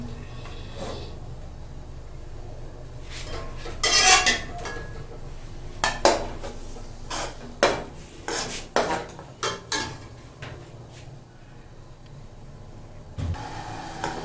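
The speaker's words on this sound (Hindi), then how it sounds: "कुकिंग ऑयल डालेंगे और इसके साथ ही इसमें प्याज डाल देंगे।" Onions go into cooking oil in a pan for restaurant-style chicken karahi, with a burst of clanking and scraping of metal utensils against the pan, followed by a quieter low sizzle.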